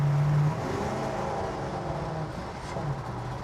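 An old Ford F1 pickup with a swapped-in LS V8 runs rough in a dusty garage, its engine droning and bogging down when the throttle is opened instead of revving cleanly, with a brief steady tone at the start.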